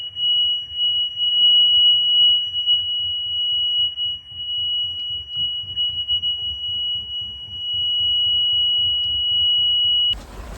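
Aboard a sailboat crossing the Pacific, a bilge water alarm holds a steady, high-pitched electronic tone for about ten seconds before it cuts off, with low rhythmic knocking beneath it.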